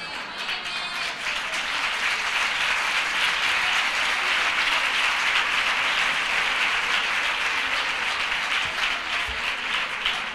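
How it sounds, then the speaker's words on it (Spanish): A large crowd applauds in a dense, continuous roar of clapping that holds steady for about ten seconds, loud and without voices. "Pero esos aplausos, ese clamor"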